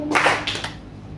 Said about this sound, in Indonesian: pagi berarti tepuk 1 kali